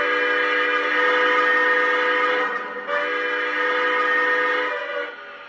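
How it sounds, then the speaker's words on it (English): A Legacy-model steam whistle on a 20th Century Limited model train engine sounds as one long, steady, multi-toned blast that holds for about five seconds, clear and close, with a brief dip midway before it fades at the end. "That's the default whistle on this legacy engine."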